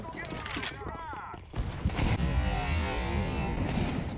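Gunfire in Counter-Strike on the Mirage map, a burst of rapid shots and clatter near the start, followed by continuous loud game action and mixed noise.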